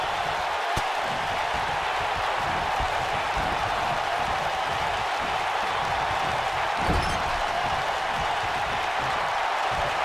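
A wrestling arena crowd roaring through a handicap match at WWE Fastlane 2019, a dense, continuous wall of cheering with a couple of sharp thuds from the ring.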